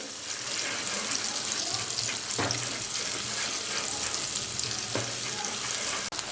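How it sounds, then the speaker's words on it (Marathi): Spiced masala paste frying in oil for kat vada, a steady close sizzle and hiss throughout with a couple of brief stirring scrapes against the pan. "सुक्का होईपर्यंत आपण हा मसाला व्यवस्थितपणे या तेलामध्ये छान परतवून घेणार आहोत"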